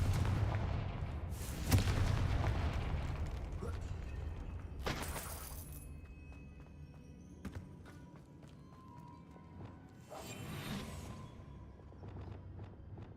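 Confringo spell blasts in the Hogwarts Legacy game erupt as several loud booming explosions spaced a few seconds apart, each with a sharp crack and rumbling decay over a low steady background.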